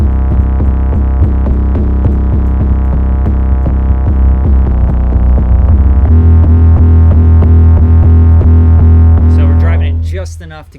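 A loud, driven 808 bass built from stock Logic Pro X plugins, booming low and sustained under a busy beat with gritty upper harmonics, before a burst of noisy texture near the end.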